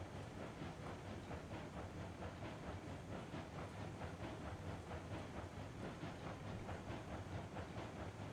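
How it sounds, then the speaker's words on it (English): Double-headed steam train hauling 25 cars in RAILROADS Online, a constant dense rumble and hiss with faint rhythmic chuffing, quiet and steady with no voices. "The train is pushing or tugging pretty hard here"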